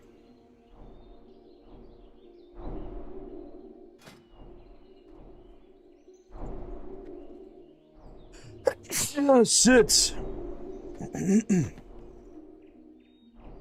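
A single sharp sneeze bursts out loudly amid quiet room noise and murmured talk, followed by a brief spoken exclamation.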